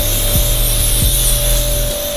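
A sprayer hisses a fine, steady mist of water onto poptop campervan canvas, a continuous broadband spray under a constant motor-like hum, close and fairly loud throughout.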